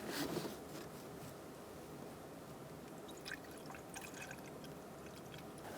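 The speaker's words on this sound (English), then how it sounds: "Set it aside and begin to fill up your coolant." Coolant poured into the radiator of a 2012-2018 Ford Focus, a steady soft trickling gurgle running continuously up close, with a few brief clinks, no talking.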